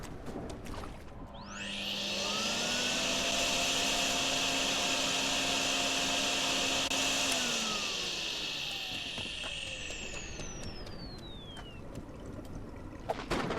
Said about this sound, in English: Comedian man running with his wet hoover.